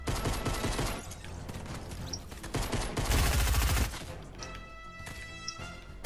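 Automatic gunfire in Fortnite, sustained rapid rattling bursts with a loud heavy blast in the middle, then quieter metallic pings and ringing toward the end.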